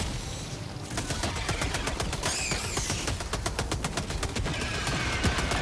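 SMG gunfire in Helldivers 2, long rapid automatic bursts of evenly spaced shots, loud and near, running almost without a break under busy game noise.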